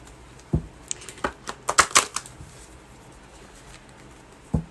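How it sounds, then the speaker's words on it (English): A deck of tarot cards being shuffled by hand, a quick cluster of soft riffling and tapping clicks close by, with a single isolated tap at the start and end, no talking. "I'm shuffling the wrong deck"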